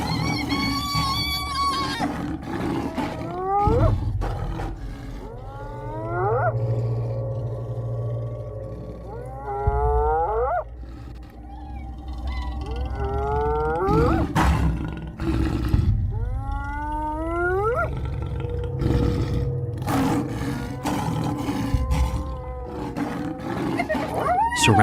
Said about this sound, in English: The lion roars and turns to face them all.